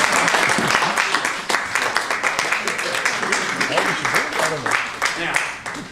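An audience applauds a magic rope trick, with steady, dense clapping from many hands that rises quickly and holds at a lively level, fading slightly toward the end.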